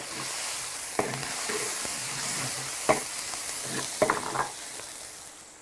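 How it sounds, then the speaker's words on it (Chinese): Scallions and garlic stir-fry in hot oil in a wok, a steady loud sizzle punctuated by a few sharp clanks of the spatula against the pan. "现在开始炒哈。 过牛底油倒大葱、大蒜、"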